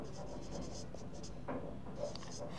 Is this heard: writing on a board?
yes